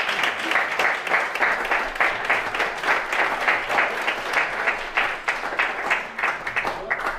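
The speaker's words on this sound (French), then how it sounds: "On les applaudit." Sustained audience applause fills a regional entrepreneurship awards gala in Gaspésie–Îles-de-la-Madeleine, a dense, steady wash of many hands clapping at close range throughout.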